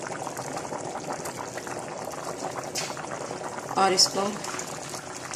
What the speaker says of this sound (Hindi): यहाँ हम बॉइलिंग पानी में वो डाल देंगे